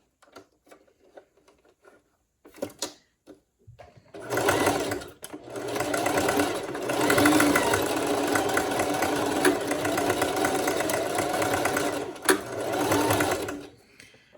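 Sewing machine stitching through a wig being resized, a steady continuous mechanical whir that runs loud for about nine seconds after a few brief starts and clicks, with no talking over it.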